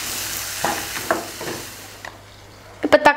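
Two tomatoes sautéing in oil for brinjal gravy, a low sizzle with a few soft spoon stirs, then sharper spoon knocks against the pan at the end.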